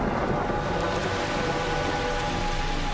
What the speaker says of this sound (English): As the clouds rise, they cool, releasing their water as rain and as snow.